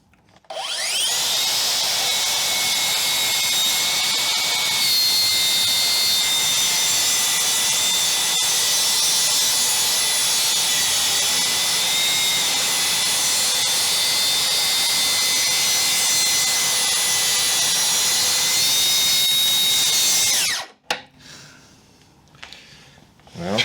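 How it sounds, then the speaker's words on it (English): A Makita cordless rail saw spins up and cuts for about twenty seconds as a loud, steady high-pitched whine, then winds down abruptly and leaves quiet handling sounds. "Let's put the batteries in here and give it a whirl."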